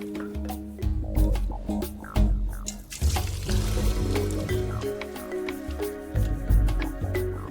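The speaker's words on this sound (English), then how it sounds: "they need to be drenched with ice cold water just to stop them cooking so they don't go mushy" Cooked noodles drained and drenched under an ice-cold kitchen tap, water running steadily and splashing into a sink throughout, with louder surges of pouring at points and no talk.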